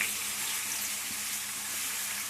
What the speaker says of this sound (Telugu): ఆనియన్స్ పచ్చిమిర్చి రెండు వేసేసుకొని బాగా దూరగా ఫ్రై చేసుకుందాం